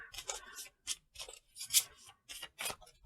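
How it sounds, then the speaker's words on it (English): Tarot cards being shuffled by hand, crisp papery riffles and slides in uneven bursts separated by short pauses, close and clear with no talking. "I swear I'm shuffling these."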